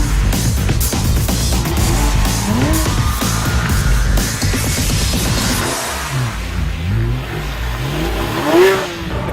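A Porsche 997 GT3 RS accelerates hard on a race track, its engine note climbing and dropping through gear changes, with tyre squeal and a sharp rise near the end.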